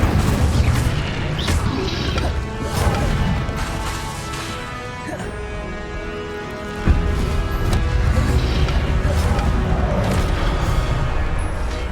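Incendio fire spells cast in Hogwarts Legacy, loud bursting booms and crashes one after another amid dense game sound.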